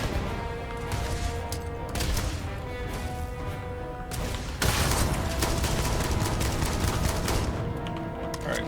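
Dense, continuous gunfire and grenade explosions in the Starfield video game, with rapid overlapping bursts and heavier blasts, loud and sustained throughout.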